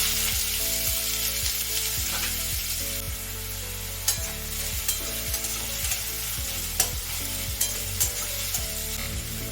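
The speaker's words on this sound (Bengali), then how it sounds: "তেল গরম হয়ে গেছে সামান্য একটুখানি জিরে দিলাম এই যে পেঁয়াজ রেখেছিলাম এই পেঁয়াজটা দিয়ে দিলাম" Onion fries in hot oil with cumin, producing a continuous sizzle with regular spatula scrapes and taps against the pan, under a sustained musical background. There is no talking.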